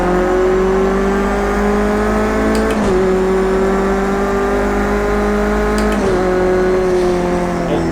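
A race car engine in the Project Cars 2 video game, heard in VR, drones loudly and steadily under acceleration, with two sharp gear-shift dips as the pitch climbs again, alone without talk.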